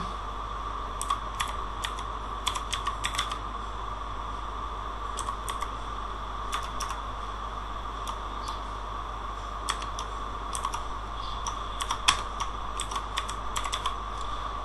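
Typing on a computer keyboard, irregular bursts of quick key clicks over a steady low hum, fairly close and alone.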